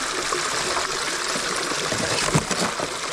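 Water rushes and trickles through a gold highbanker sluice with a new hopper, a steady close gushing wash with a brief louder splash near the end, no voices.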